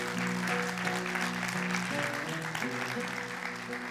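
An audience claps at a poetry recital, a sustained wash of applause. It rises over a faint tonal background, with no clear speech on top.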